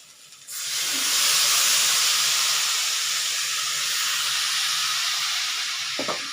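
Water is sprinkled into a hot pan of potato and beans, bursting into a loud, sustained sizzle and steam hiss that settles slightly but continues to the end.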